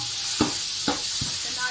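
Garlic ginger paste sizzles in a pan with browned onions, a steady hiss broken by three scraping stirs of a spoon, close and alone with no talk.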